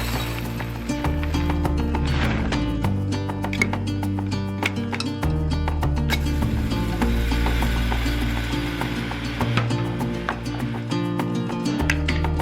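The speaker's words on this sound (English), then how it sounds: "I'm gonna grind coffee for the next few mornings for us to have here at the house" Coffee beans being ground at home, a steady loud mechanical grinding with ratcheting, clicking texture that runs continuously throughout with no talking.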